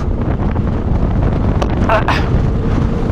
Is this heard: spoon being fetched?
no